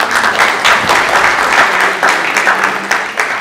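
Audience applause at a book launch event, a loud, steady round of clapping from a crowd throughout, with no talk over it.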